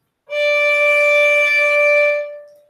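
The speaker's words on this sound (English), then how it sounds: "So if you would play a normal tone on the violin, it would sound like this." One steady bowed violin note holds for about two seconds, clear and even with no vibrato, then fades.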